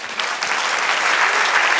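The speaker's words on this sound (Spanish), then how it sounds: "Da un aplauso al Señor." A church congregation breaks into loud, sustained applause, dense and even from start to finish with no voices standing out.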